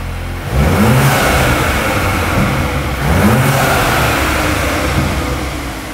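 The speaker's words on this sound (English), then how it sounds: "just a simple blip or press of the throttle" A Volkswagen Golf R engine is blipped twice, each quick throttle press sending a loud, close rev surging up and settling back over a steady running hum, with no voices.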